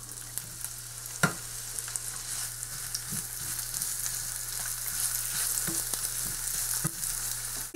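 Onions frying in oil and butter in a pan give a steady, moderate sizzle with occasional soft clicks and taps of a utensil, a low hum running beneath.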